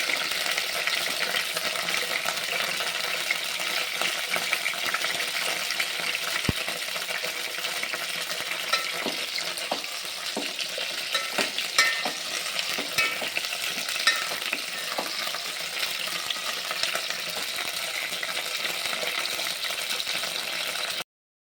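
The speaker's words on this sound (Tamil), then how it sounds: "எல்லா பக்கமும் கத்திரிக்காயை நல்லா புரட்டிக்கிட்டோம்னா நல்லா 4 பக்கமும் அது வதங்கணும்." Eggplant being turned and fried in a pan, giving a constant close sizzle with scattered scraping and clicking from the stirring utensil throughout.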